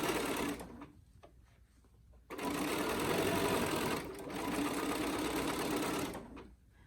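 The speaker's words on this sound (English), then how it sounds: "I'm going to stitch across the top, and I'm going to stitch across the bottom." Sewing machine stitching across the top and bottom of a fabric face mask with a pocket, a loud close whirring run, a short pause, then a second longer run that stops, with no talking.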